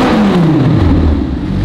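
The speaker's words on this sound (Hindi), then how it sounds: "एंड लैम्बोर्गिनी माय गॉड इसका एग्जॉस्ट है इतना लाउड है" A Lamborghini Gallardo's loud exhaust roars up close, the engine pitch sliding down as the revs fall away, dense and forceful from start to finish with no talking.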